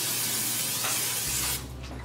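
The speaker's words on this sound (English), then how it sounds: "now I'm gonna spray a little bit of cooking spray on the bottom of it." Cooking spray hisses in a steady blast into a preheated air fryer basket, close and fairly loud, then cuts off, leaving a low hum in the background.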